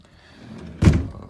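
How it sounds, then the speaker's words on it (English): A camper's interior door is pulled shut, giving a single close thunk with a brief rattle after a quiet moment of faint movement. "let me close this door"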